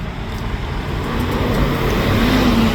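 Busy city street in Valencia with a steady roar of passing cars, continuous traffic noise close by and one vehicle engine rising in pitch toward the end.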